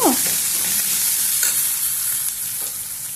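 Potato pieces fry and get stirred in a pan, with a steady close sizzle and scraping stirs running throughout, no voices.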